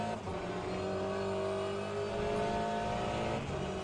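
An Aston Martin race car in the Le Mans Ultimate sim racing game gives a steady, loud engine drone with clear harmonic tones that rise and fall slightly as it holds speed, heard alone without talk.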